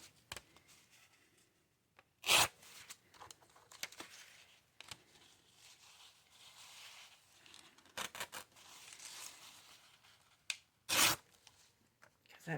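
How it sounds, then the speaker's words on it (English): Paper torn by hand around a cut shape while making a masterboard for tag backs, in a few short separate rips spread across a mostly quiet stretch with faint handling noise between them. "So that's why I'm just going to tear around it right now."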